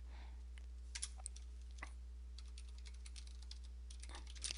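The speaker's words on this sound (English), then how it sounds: "So make sure that you type your password." A password being typed on a computer keyboard, heard as a quiet run of soft, uneven key clicks over a steady low hum.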